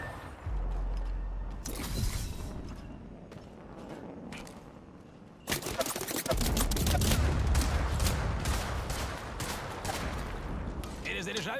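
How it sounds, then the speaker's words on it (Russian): Gunfire in the video game Apex Legends: dense bursts of shots and impacts layered over game noise, quieter at first, then a sudden louder, sustained stretch of rapid firing. "Меня стреляют."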